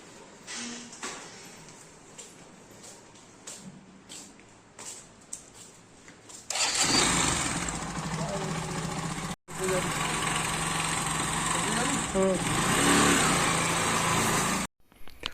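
A motorcycle engine starts up after some quiet handling noises, then runs in a loud, steady idle close by, briefly cutting out twice.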